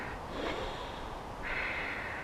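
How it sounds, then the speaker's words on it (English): Deep breathing during a yoga hip stretch, a slow inhale followed by a longer airy exhale through the nose, close and fairly soft with no talk. "Breathe deep"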